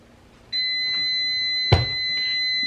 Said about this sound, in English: I keep getting interrupted by the beeps